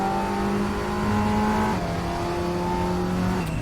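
A race car in a racing game accelerates hard on the Stowe Circuit long layout, its engine note loud and close, climbing steadily through the gears with a brief shift partway through.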